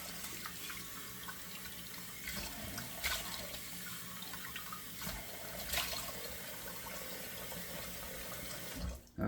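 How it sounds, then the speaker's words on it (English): A bathroom tap runs steadily into a sink while cold water is splashed onto a face, a continuous close gurgling stream broken by a few louder splashes and a sharp knock near the end. "just know that I'm splashing on cold water twice"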